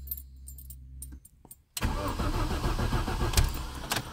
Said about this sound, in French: moteur froid, elle démarre pas du premier coup